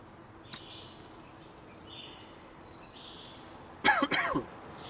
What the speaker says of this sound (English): This nasty cough.